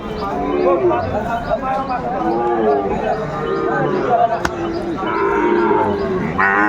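Sahiwal cattle and bull calves low and moo amid a crowd of voices talking nearby at a busy outdoor cattle market in Chattogram.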